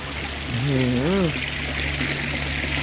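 Clear water pours steadily from a koi pond filter outlet at night, a constant close rushing flow, while a voice briefly exclaims over it.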